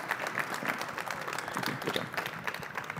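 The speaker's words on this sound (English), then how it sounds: "Ladies and gentlemen, Matt Sasha, a round of applause." An audience at a college football trophy presentation in Salem, Virginia bursts into steady applause, dense clapping continuing evenly for about three seconds with no voices over it.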